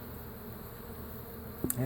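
Honeybees swarm around a hive corner during a removal job, a steady, dense buzz filling the air continuously, with a brief sharp knock near the end.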